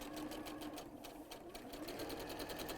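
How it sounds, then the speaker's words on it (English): A sewing machine runs steadily, stitching a quarter-inch seam during dressmaking, its rapid even chatter close and continuous from start to finish with no voices. "So sew this one again with your 1/4 inch seam, remembering to do a little reverse stitch at the beginning and end."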